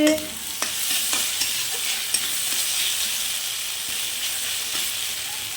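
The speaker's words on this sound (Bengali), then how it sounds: "মটনটা কষা হচ্ছে" Mutton coated in ground spices and biryani masala is stir-fried in a pan, a constant crackling sizzle with regular scraping strokes and metallic taps from the spatula, close by.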